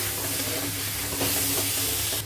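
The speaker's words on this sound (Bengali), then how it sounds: "মশলাটা ভালো করে ভাজা ভাজা করে নিয়ে নিয়েছি" Dry spices, red chilli powder and chicken masala, fry loudly in a pan for soya chilli while being stirred, with a steady close sizzle and scraping stir strokes throughout and no voices.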